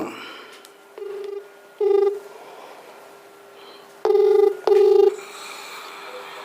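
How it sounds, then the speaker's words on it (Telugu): Several short electronic tone beeps of a phone being dialed, in separate bursts with pauses between them, over a low steady hum. "అక్కడ చిక్కల రామారావు గారికి ఫస్ట్ ఫోన్ చేద్దాం"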